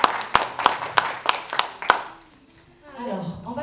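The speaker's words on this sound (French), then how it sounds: "Applaudissez pour lui." A handful of sharp, evenly spaced claps ring out from the audience at a resilience and emotional intelligence workshop, stopping after about two seconds as quieter voices carry on.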